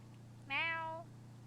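One close cat meow lasting about half a second, bright and sustained before fading, heard alone over a constant low background hum.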